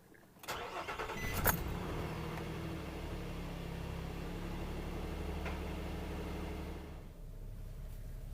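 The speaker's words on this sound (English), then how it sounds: "let's fire this truck up and see how it runs" A 2014 Nissan Frontier with a 4.0L V6 cranks briefly and catches, rising to a steady, even idle that runs close and continuous for several seconds before easing slightly at the end.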